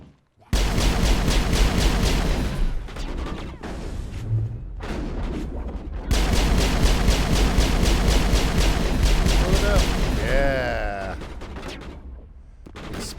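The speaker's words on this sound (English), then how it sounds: "explosions." Rapid automatic gunfire and booming explosions from the Mass Effect video game, a dense loud barrage in two long bursts with a brief lull between, ending in a descending whine as the shooting fades.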